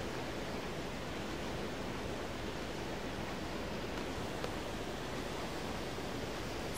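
Ocean waves from the Final Fantasy VIII video game form a steady, even wash of surf noise, faint and unbroken, with no voices over it.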